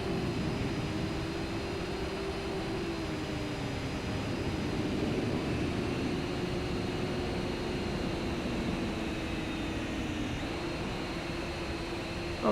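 Syma X11C quadcopter drone with HD camera flying outdoors over a field, a steady buzzing rotor whine holding at a constant level with slight pitch shifts as it travels away and back.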